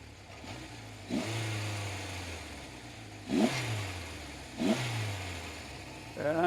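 Warmed-up 1977 Honda CB750 motorcycle engine idling low and steady at about 500 RPM, with a few brief throttle blips rising and falling over a moderate, continuous drone.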